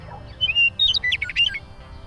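A small strange bird in an animated story gives a quick series of sweet, high chirps and squawks, clear and close against a low background hum.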